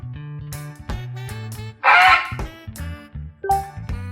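A goose lets out a loud, harsh honk in the middle of a bouncy melodic tune, with a second shorter honk near the end.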